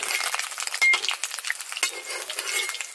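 An egg fries in a pan with a steady bright sizzle, broken by a few metallic scrapes and clinks of a utensil stirring against the pan, close and continuous.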